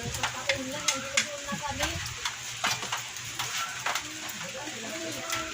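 A pot of tulingan fish simmering in coconut milk on a provincial stove, stirred by hand, giving soft scraping and clinking taps in an irregular rhythm beneath a bubbling sizzle, with a person talking over it.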